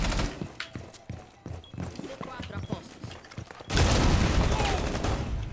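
In Rainbow Six Siege, gunfire cracks out as sharp, rapid shots, some near and some farther off, over in-game noise. A louder, denser burst of shooting and chaos erupts near the end.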